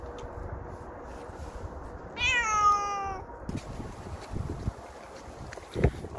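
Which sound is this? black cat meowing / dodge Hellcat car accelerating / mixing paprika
black cat meowing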